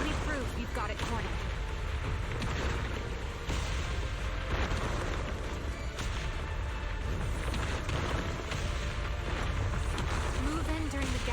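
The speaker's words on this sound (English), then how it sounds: "Move in during the gaps between explosions." Explosions in the Zenless Zone Zero video game rumble in a dense, continuous low roar beneath busy game effects, moderately loud and steady throughout.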